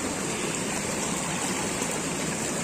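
Water runs in a steady, close, full-bodied stream while freshly harvested taro is washed, with no speech over it.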